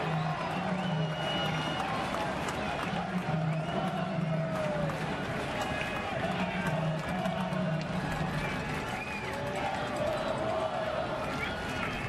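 Sparse crowd at a night baseball game in a light drizzle, a continuous distant murmur with scattered cheers and claps rising and falling, under steady commentary talk.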